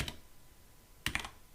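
Computer keyboard keys clicked while writing PHP code: one soft keystroke at the start, then after a pause a quick cluster of two or three sharper taps as the enter key drops to a new line, close and fairly quiet.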